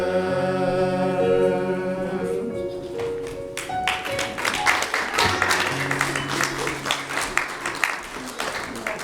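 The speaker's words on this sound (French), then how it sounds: "Un plus gros applaudissement, s'il vous plaît, un plus gros applaudissement" Wedding guests break into applause as sustained music fades, the clapping building into a lively, fairly close patter of many hands that continues to the end, with a voice speaking over it.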